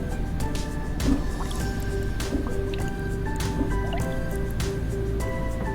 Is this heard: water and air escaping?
yes